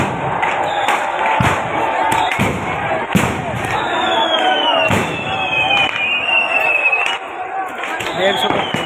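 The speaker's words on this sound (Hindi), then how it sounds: "और पटाखा वटाखा बाज रहे बढ़िया" Firecrackers burst in sharp, irregular cracks and pops amid a busy outdoor crowd after the Dussehra Ravana burning, with whistling rockets rising and people talking and shouting nearby.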